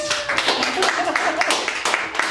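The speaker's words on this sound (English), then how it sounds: "Everybody give Ricky a round of applause" Clapping from a keynote audience, a steady patter of hands with voices mixed in, fairly close and moderately loud.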